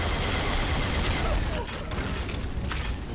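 Loud, continuous video game gunfire with booming impacts and mechanical clatter during a headshot in a shooter, dense and close throughout, with someone talking over it.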